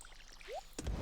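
Watering plants with a watering can in Stardew Valley: a brief rising pouring splash, soft and close, ending in a short burst of trickling water.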